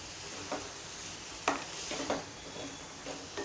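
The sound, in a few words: stirring red amaranth greens with crushed onion in pan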